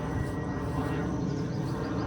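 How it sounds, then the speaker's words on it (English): Airplane taking off low over a house and garden, a steady broad roaring drone that stays loud and even without breaks, with no speech over it. "Sorry about the plane."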